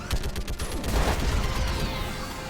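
Rapid automatic gunfire in the Mass Effect 3 video game, a dense, loud burst of repeated shots with a boom near the middle, continuous across the whole stretch.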